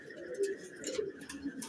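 Pigeons kept for sale, including a Cantella hen sitting on eggs, give soft low coos in about three short calls spread across a moment, close by over faint background noise.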